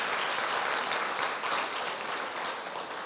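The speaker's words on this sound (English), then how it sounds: "I'd love for you to give them a round of applause again." An audience applauds the sponsors of a women's wealth-building conference, a dense, steady wash of many hands clapping throughout, fairly loud and unbroken, with no voices.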